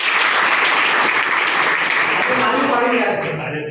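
Audience applause filling a hall at a district education and training centre, with dense, loud clapping sustained for several seconds before thinning slightly at the end.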